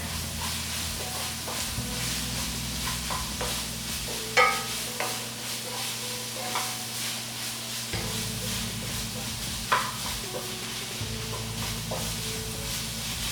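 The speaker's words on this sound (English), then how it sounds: "Go ahead and get that all nice and mixed in." Spices, pepper flakes, onion flakes, garlic powder and onion powder, are mixed into beefaroni in a pan, with a low sizzle, occasional scraping stirs and a couple of sharp clinks, under faint background hum.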